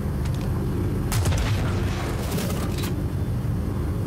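Electron bolt sniper rifle firing in Star Citizen, a loud electric crackling burst about a second long with sparking hiss, over a steady low rumbling background.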